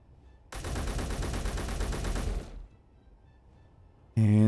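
Gunfire in the video game Space Engineers: one loud, dense burst of rapid automatic fire lasting about two seconds, then a quiet gap before a sharp tonal game sound cuts in.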